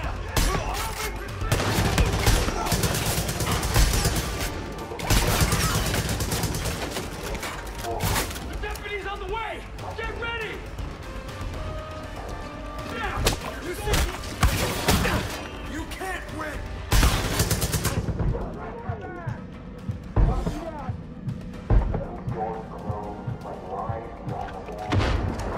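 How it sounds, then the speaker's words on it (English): Dense gunfire bursts and grenade blasts from the video game Far Cry 5 crackle and boom almost nonstop, with voices talking over the action. "Wow, I shot him and the grenade went like way backwards."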